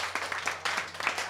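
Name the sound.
audience applause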